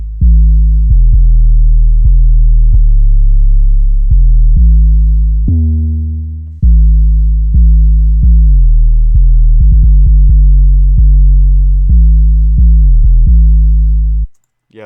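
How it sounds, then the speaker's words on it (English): A high-pitched synth bass line from a spacey trap beat throbs loud and sustained, its deep, buzzy notes shifting pitch in a repeating pattern with occasional brief breaks before stopping abruptly. "Got this bass line, which is honestly a higher noted bass line."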